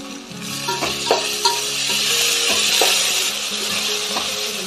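Coriander and mint leaves tossed into a hot biryani pot sizzle steadily and loudly. A few soft knocks and stirring sounds come through the frying, and no one speaks.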